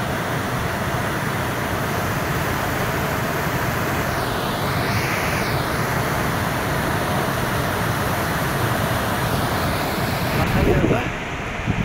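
Suligad river in Dolpa rushing beneath a wooden footbridge on the trek to Phoksundo lake, a loud steady roar of turbulent water that fills the whole stretch without letup, with faint wind noise near the end.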